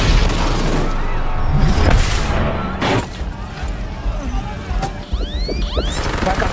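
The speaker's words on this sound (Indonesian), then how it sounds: "mobil meledak dan menewaskan 3 orang di dalam sana kecuali Sam" A car explodes in an action film, a loud boom and crash followed by rumbling debris and scattered mechanical clatter, with swooping high effects near the end.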